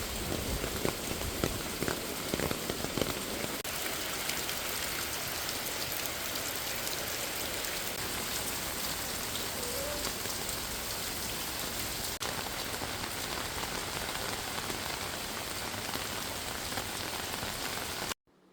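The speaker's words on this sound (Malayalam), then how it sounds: "മഴ തകർത്ത് പെയ്യുന്നുണ്ട്" Heavy rain pours down outdoors, a loud dense roar of drops that stays constant and close, with a burst of stronger splattering at the start and an abrupt stop at the end.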